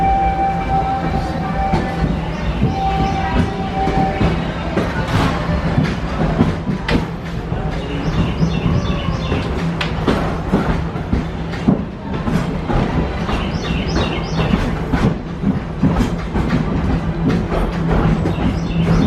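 Wildlife Express train at Disney's Animal Kingdom rolling along steadily, with continuous rumble, rhythmic clacking of wheels and scattered metallic clicks throughout, loud and close.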